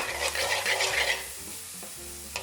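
Onions frying with garlic and ginger in a pan make a soft, close sizzle, with a burst of stirring and scraping early on that settles into quieter frying and a final tap, no talking.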